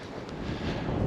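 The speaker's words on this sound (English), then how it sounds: "it's windy" Wind gusting across a lonely, open landscape, a brief continuous broadband rush buffeting the microphone with no voices.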